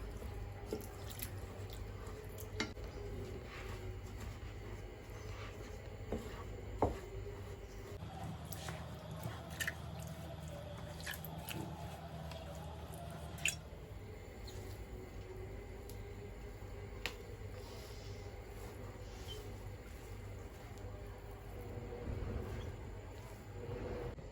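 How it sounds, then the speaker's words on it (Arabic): Water poured by hand onto semolina for Moroccan couscous, giving soft, quiet splashing and wet squishing sounds with faint drips, close and steady throughout, with no talking. "دابا غادي نخوي عليه الماء على هاد السميده"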